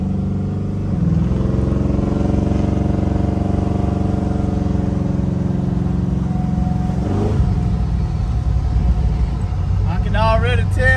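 LS3-swapped Impala car on a test drive, its engine droning steadily with strong low harmonics, rising in pitch as it accelerates, then shifting down around midway and pulling again, with people talking over it.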